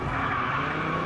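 A rally car driven by Michele Mouton brakes and skids into a hairpin, giving a brief, loud, continuous roar of engine and tire scrub with no voices.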